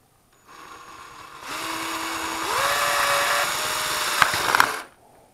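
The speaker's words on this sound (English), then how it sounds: "you just take your drill and put a hole in the crazy carpet" A power drill whines steadily, boring a hole through a Crazy Carpet plastic sled sheet, its pitch rising as it bites in and speeds up, then a few knocks before it winds down; close and loud, no talking.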